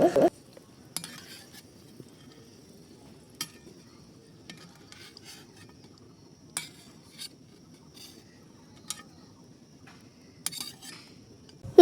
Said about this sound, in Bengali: এবার ভেজে নেব মিষ্টি কুমড়ো